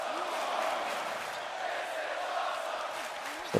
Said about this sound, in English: The crowd chant that this is awesome